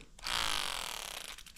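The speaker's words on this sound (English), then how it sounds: "that noise is coming from the tape that's on it." A short mechanical creak from a baitcaster fishing reel being cranked, caused by tape stuck on the reel, rasping for about a second at close range before fading.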